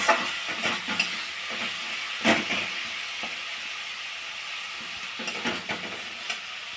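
Spice paste of coriander, turmeric and chili powder frying in a pan for a fish curry, hissing sizzle with repeated spatula scrapes and taps, clustered near the start and end, no voices.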